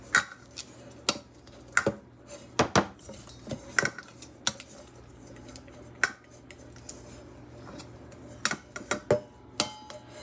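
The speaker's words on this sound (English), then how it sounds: "You know I'm gonna scrape out every last little bit of it." A utensil scrapes butter out of a plastic container, making sharp irregular clicks and knocks, some in quick clusters, with quiet gaps between them.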